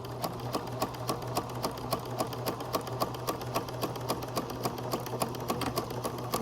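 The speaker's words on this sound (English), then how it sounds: "I back stitched and I want to sew down this line." A sewing machine stitches a 5/8 inch seam in fabric, its needle clattering in a fast, even rhythm of sharp ticks over a low motor hum, close by and steady throughout.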